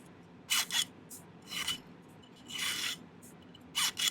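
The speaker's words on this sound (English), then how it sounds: "Maybe give that a little file." Short rasping strokes of a file on a small metal seashell setting come in quick pairs and single passes, close and fairly quiet, with pauses between them.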